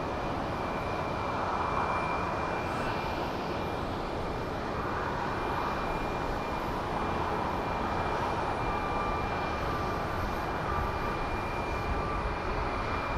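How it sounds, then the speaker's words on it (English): Airbus A321 jet departing Phoenix Sky Harbor airport, a steady broad distant engine roar with a faint whine, even in loudness throughout, heard without any voices. "A321 departing for Palm Springs."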